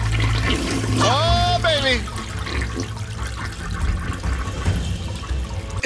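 A toilet flushes in The Baby in Yellow video game, a loud rushing swirl of water that drains away over several seconds, with someone talking over it.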